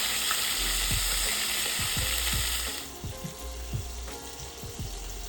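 Beef sears steadily in a hot pot, a dense frying hiss that drops a little partway, with occasional clinks and scrapes of stirring.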